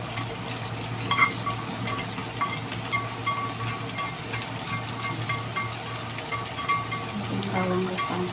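Shrimp stir-fry in a hot pan, a dense, steady sizzle with scattered crackles and stirring scrapes, close and continuous with no talking.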